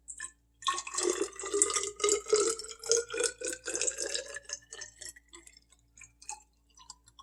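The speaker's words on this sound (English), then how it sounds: "We're going to fill that to the 100 ml line with cool tap water." Cool tap water runs into a graduated container for a lab exercise, a steady splashing fill with dripping and trickling textures, fairly close and moderate, rising in pitch as the vessel fills before tapering off.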